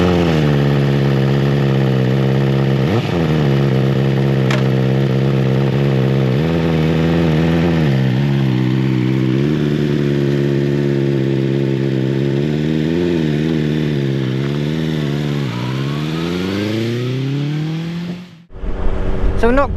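A BMW S1000XR motorcycle engine while riding, steady and close with repeated rev rises and gear changes as the bike accelerates, then a sudden drop and rumble near the end, no talking.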